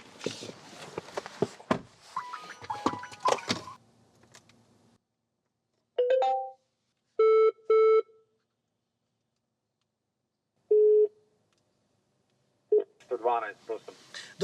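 A car's eCall emergency call dialing and ringing: a few short tone bursts and repeated ring pulses in an otherwise quiet cabin, with people talking before and after.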